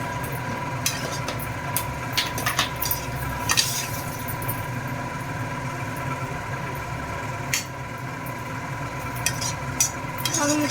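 Coriander stirred through a sizzling mixture in a frying pan, with a steady close-up frying hiss and scattered scraping strokes of the spoon across the pan.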